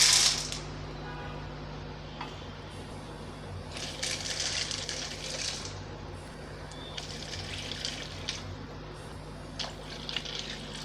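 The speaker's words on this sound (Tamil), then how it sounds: "இதே கப்பால் 5 கப் நம்ம தண்ணி சேர்த்துக்கலாம்." Water is poured into a pot for cooking pasta in several short splashing bursts over a steady low electrical hum, fairly quiet and close.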